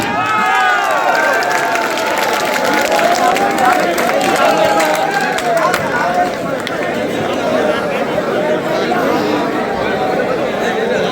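Steady crowd noise with overlapping clapping and chatter at an outdoor bhajan competition prize ceremony, continuous and fairly loud throughout, with no clear individual voice standing out.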